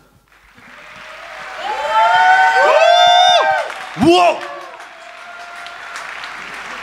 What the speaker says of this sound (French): un applaudissement pour Quarx